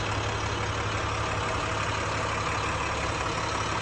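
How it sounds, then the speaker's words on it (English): 2009 International Durastar 4300 knuckleboom dump truck with its diesel engine idling, a steady, even rumble under broad noise and no voices. "Like I said, the motor sounds great."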